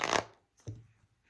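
Two quick riffling bursts of tarot cards being shuffled, close up, with a short pause between them.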